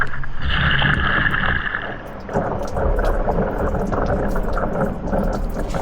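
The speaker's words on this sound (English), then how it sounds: "Definite bubbles." Air bubbles escape from a submerged dry bag, giving a run of close, irregular gurgling pops and watery splashes, busier in the second half.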